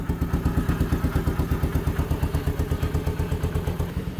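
A homemade custom side-by-side's engine idles close by, running for the first time in over a year, with a steady, fast, rhythmic chugging clatter that holds even throughout.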